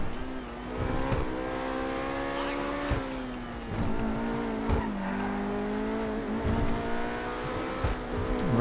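A Lamborghini driven in GTA Online, its engine droning steadily with rising and falling revs, punctuated by thumps and brief skids, loud and close throughout.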